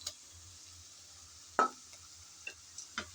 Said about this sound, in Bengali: আদা রসুন বাটা দিয়ে আবারও একটু নেড়ে চেড়ে ভালোভাবে ভেজে নিতে হবে